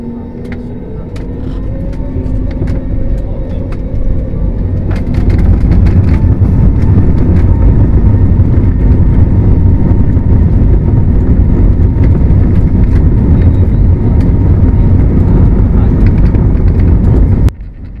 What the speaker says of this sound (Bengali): রানওয়ে থেকে দ্রুত গতিতে বিমানটি ছুটে চলছে আকাশে ওড়ার জন্য